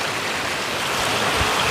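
Creek water flows in a steady, close, broadband rush while someone crosses the stream, with no voices heard.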